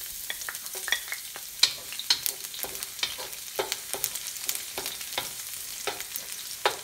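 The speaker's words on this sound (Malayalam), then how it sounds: "ഓയിൽ ഒന്ന് ചൂടായി വരുമ്പോൾ അതിലേക്ക് കുറച്ച് ചെറുതായി അരിഞ്ഞ വെളുത്തുള്ളി ചേർത്ത് കൊടുക്കണം." Chopped garlic frying in hot vegetable oil for Gobi Manchurian, a soft steady sizzle with frequent sharp scraping taps of stirring up close, no voices.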